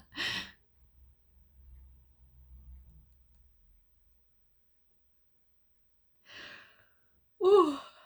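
A person yawns with a soft drawn-out breath, followed by a quiet pause and then a couple of short breathy exhalations near the end, close and otherwise silent.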